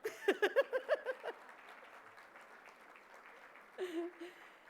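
An audience claps softly at a bilingual parents summit's opening session, a low steady patter of scattered hands in a large room, with a speaker's voice before and after it.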